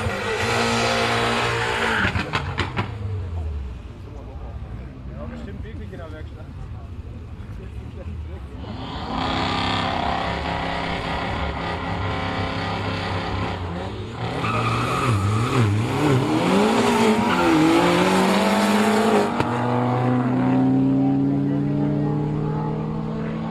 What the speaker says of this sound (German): Mini Cooper Turbo gegen Audi RS3 Limo im schönen Nano-Grau.